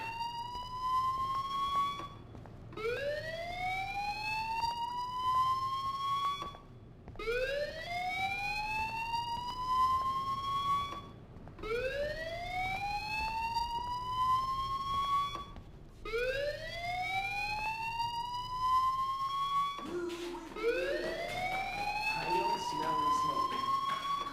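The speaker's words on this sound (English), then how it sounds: "do you hear that fire alarm? That means you should be outside." A school fire alarm in the Life is Strange video game wails in repeated upward-sweeping tones, about five whoops in a steady rhythm with brief gaps between them.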